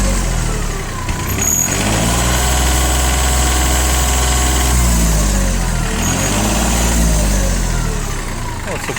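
A Mitsubishi MT14 tractor, a Japanese import with 407 engine hours, runs close by with a loud, steady diesel drone. The engine holds an even pace with no clear rise in revs.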